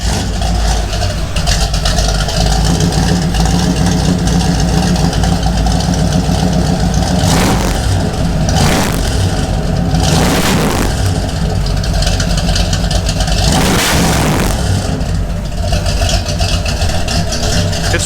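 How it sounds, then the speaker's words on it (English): A car engine with a mild cam idles loudly and steadily before Super 44 mufflers are fitted, then a few light revs swell and fade, each one a short surge over the continuous rumble; no talking. "We're gonna do a little bit of idling. It's got a little cam, it sounds okay. Then we're gonna do light revs, Kevin."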